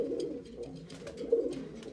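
Pet pigeons coo in a room, several birds calling together in low, overlapping throaty murmurs across a short stretch, close and moderately loud with no talk.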